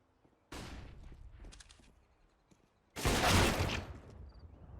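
Sniper rifle and gunfire in a shooter video game: two loud bursts of shots, a shorter one near the start and a heavier, denser one later, separated by quieter gaps with faint movement sounds.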